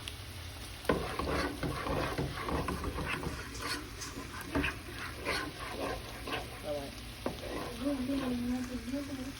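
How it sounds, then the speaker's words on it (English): A spoon stirs a thickening cheese sauce of flour, heavy cream, evaporated milk, provolone, Colby Jack and mozzarella in a pan for Philly cheesesteak lasagna. Repeated scraping strokes come over a soft sizzle while a person talks. "Just keep stirring that. It's gonna get real nice and thick."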